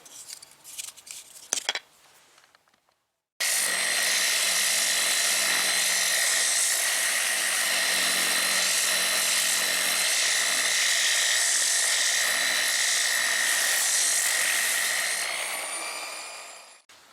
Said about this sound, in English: I sanded the fiberglass filler down